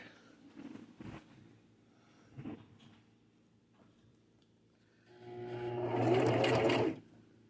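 A foot-pedal sewing machine back-stitching runs in one loud, steady burst of about two seconds near the end, after several quiet clicks and bumps of handling.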